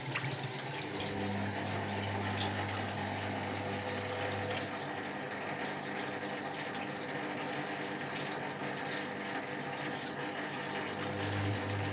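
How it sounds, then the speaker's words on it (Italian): A Zerowatt Hoover Performa 1000 HZ1042 washing machine pump drains prewash water in a steady, continuous rush over a low motor hum; the pump is faulty and works only intermittently. "scarico dell'acqua del prelavaggio"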